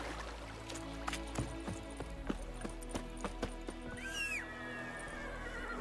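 Geralt's horse Roach in The Witcher 3 clip-clops along in rhythmic hoofbeats, and a clear whinny rises near the end against a quiet outdoor background.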